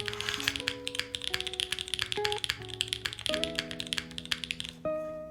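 Steady clacky typing on a glass keyboard, quick keystrokes in an irregular rhythm, close up, with a sustained musical tone underneath.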